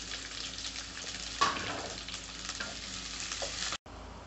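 Chopped onions sauté in a pan for veg Hakka noodles, a steady close sizzle with a brief louder burst partway through, no voices.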